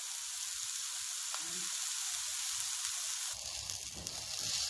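Slices of eggplant fry in oil in a pan, producing a steady, soft, hissing sizzle with occasional faint crackles, heard up close and alone.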